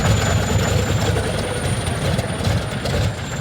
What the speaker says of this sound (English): Starting the 14-cylinder Pratt & Whitney radial engines is more art than science